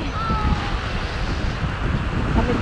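Steady seaside wind on a Cavite beach, a broad continuous roar buffeting the microphone with some surf-like wash underneath, loud and unbroken throughout.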